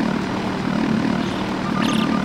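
A helicopter in the video game Body Harvest gives a steady, droning rotor and engine hum that stays loud and unbroken throughout, with no voices.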